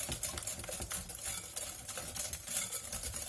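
A spoon stirs cake batter with brown cane sugar in a bowl for a pear crown cake, a quiet, continuous scraping and swishing that repeats in an uneven rhythm.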